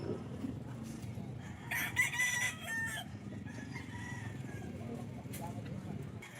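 Chickens at a busy pet market cluck and crow repeatedly, with a rooster's crow rising clearly around the middle, over steady crowd chatter and background bustle.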